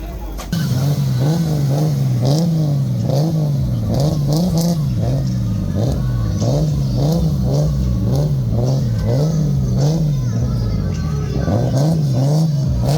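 A drift car revving hard and burning rubber as it slides sideways at a drifting show, its engine loud and close, rising and falling in a steady wavering rhythm of throttle blips throughout.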